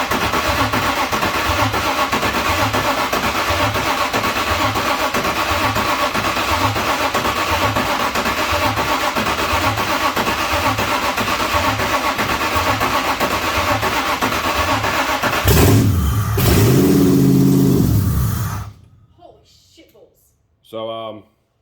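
A Nissan Patrol fitted with a V8 engine runs close and loud with a dense, rumbling idle, then revs hard in a rising surge before the engine shuts off, leaving near silence with a faint voice.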